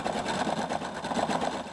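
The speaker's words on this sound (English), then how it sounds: "They have the sewing machines that the library," A library sewing machine runs in a steady rapid whir with a fast, even stitching pulse, close and alone.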